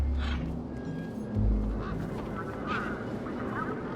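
A large bird in Beyond a Steel Sky gives loud, close quacking honks, with a few distinct calls spread across a desert soundscape and a deep thump near the middle.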